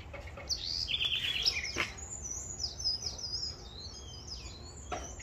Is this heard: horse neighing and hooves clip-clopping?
no